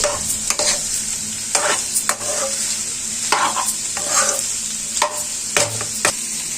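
A spoon stirs coriander powder and salt through cauliflower masala in a sizzling pan, with scraping strokes at irregular intervals over a constant close frying hiss.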